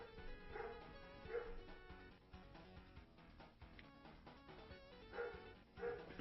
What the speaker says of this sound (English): Oh, they're barking at my dad.